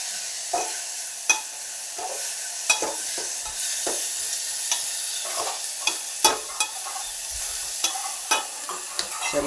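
Onion and tomato fry in a pan, a low steady sizzle broken by regular clinks and scrapes of a spatula stirring, close and quiet, with no voices.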